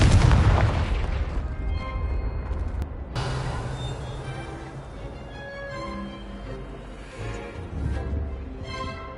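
Confringo spell blasts in Hogwarts Legacy, booming explosions that open loud and heavy then roll into rumbling, crackling aftershocks with further hits, close and full.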